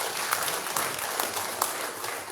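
Applause from guests at a Nigerian Army end-of-year dinner party, a steady crackling patter of clapping at moderate level with no talk over it.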